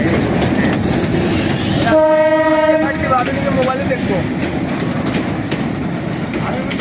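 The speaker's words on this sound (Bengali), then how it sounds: "এই যে ভাই ট্রেন আসতেছে," A train rolls past on the rails with steady rumbling clatter throughout and a long loud horn blast near the start; someone speaks briefly over the noise.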